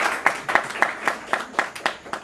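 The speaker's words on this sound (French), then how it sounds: "On applaudit s'il vous plaît, mesdames et messieurs." Audience applause at a home reception, a short burst of roughly ten distinct, fairly evenly spaced claps, close and clear with no talk over them.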